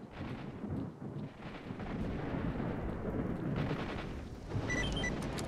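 Rumbling blasts in the S.T.A.L.K.E.R. shooter game, a dense, loud low roar that swells and rolls for several seconds like a big explosion, with faint chirping tones near the end; no talking.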